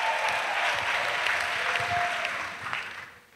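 A church congregation at an annual missionaries' retreat in Côte d'Ivoire claps together in a thick, continuous round of applause that fades out at the close.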